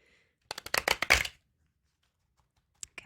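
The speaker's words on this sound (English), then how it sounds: "please pardon my awkward shuffling" Oversized cat-themed tarot deck being shuffled by hand, a burst of rapid riffling card flicks lasting under a second, then quiet with a couple of faint card taps near the end.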